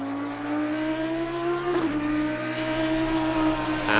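A race car lapping Silverstone in Assetto Corsa Competizione, engine droning loud and steady, pitch climbing, briefly dropping with a gear change, then rising again as it accelerates.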